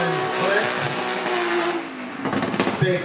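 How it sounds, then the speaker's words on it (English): A drift car on a concrete course at the Borneo Star Drift Series qualifying round in Miri, Sarawak, engine roaring loud and steady while tires squeal through a handbrake-initiated slide, with a commentator's voice faintly underneath. "Look at this big switch here on the handbrake"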